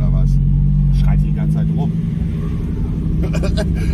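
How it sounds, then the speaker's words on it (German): A loud car engine rumbles deep and steady from inside the moving vehicle, close and constant, with people talking over it. "Ja, du bist das natürlich gewohnt, dass der Wagen natürlich so laut ist."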